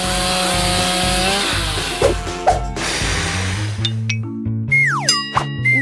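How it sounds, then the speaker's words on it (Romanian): A cartoon-style chainsaw buzzes loud and steady, then sputters into springy boing-like effects and rising synthetic tones near the end, with no talk over it. "Ah, chiar, drujba!"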